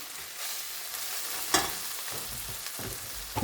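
King prawns sizzle and fry in a pan over a slow medium flame, a steady broadband crackle with a few sharper spits and stirring scrapes, close and without talk.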